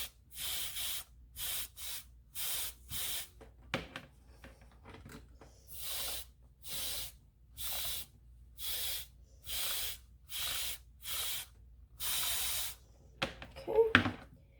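Steam from a hot washcloth pressed onto synthetic dreadlock hair hisses in a quick series of short, sharp bursts, each a second or less, separated by brief quiet gaps, close and fairly loud with no voices.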